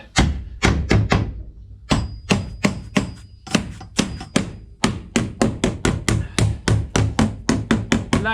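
A hammer taps timber floorboards into place inside a VW Kombi van: a long run of sharp, close wooden knocks, first in small groups and then in a fast steady rhythm.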